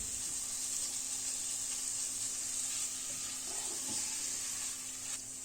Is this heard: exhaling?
no